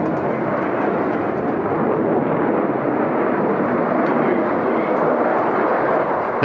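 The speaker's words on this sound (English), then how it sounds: "He pulls the aircraft up into what he calls a half Cuban 8." Aircraft climbing and rolling through a half Cuban 8 aerobatic manoeuvre at the Farnborough airshow, a loud continuous jet roar that holds steady throughout with no talk.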